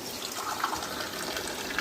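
Water pours steadily into a pot of sambar being cooked, a continuous splashing rush, even in loudness throughout, no voices.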